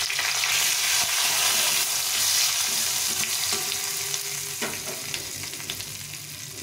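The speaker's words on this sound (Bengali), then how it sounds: "তেল গরম হয়ে গেছে, এখন এই শুকনো লঙ্কা, তেজপাতা আর এই সাদা জিরে দিয়ে দিলাম।" Dried red chillies, bay leaf and cumin seeds crackle and sizzle in hot oil, a steady close frying hiss running throughout with occasional light pops and stirring sounds.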